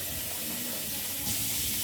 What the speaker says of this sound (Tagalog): Nailagay na natin ang tubig.